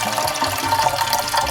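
Leftover glacier water is dumped out of a container, a steady, close gush of pouring liquid running for the whole moment with no talking over it.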